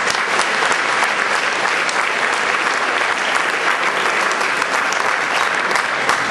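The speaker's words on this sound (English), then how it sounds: "So give yourself a round of applause." Sustained, dense applause from a large audience at the LA NAACP 100th gala, loud and continuous without pause for the full length.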